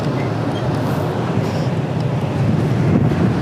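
Wind buffets the microphone outdoors in a steady rumbling rush, low and constant, swelling slightly toward the end with no voices.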